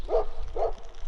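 Two sharp dog barks in a small rural town, about half a second apart, fairly close and loud over a faint outdoor background.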